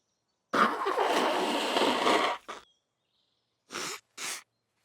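A cartoon dog gives a long, breathy, sneeze-like burst of noise, then a short tail-off. After a pause come two quick, sharp bursts, all loud and close with no talk.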